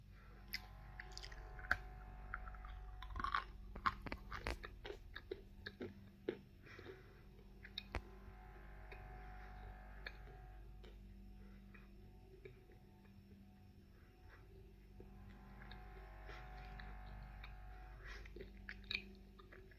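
Someone bites and chews a waxy, light-pink edible clay, producing close, quiet crunches and soft ticking clicks in irregular bursts over a low background hum, with no talking.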